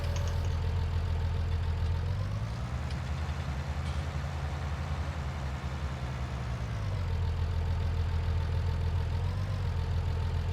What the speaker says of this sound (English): the way I'm driving this tractor